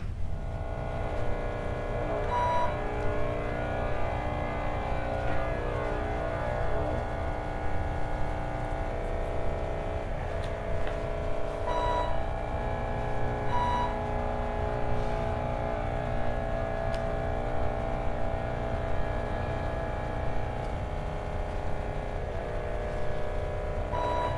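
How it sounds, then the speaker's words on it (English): Sonified image data: a steady, dense droning hum with tonal layers runs throughout, broken by a few faint short test beeps at intervals that mark the beginning and end of the pixel data. "Every 8 seconds, the continuous hum is punctuated by two test beeps which demarcate beginning and end of the pixel data"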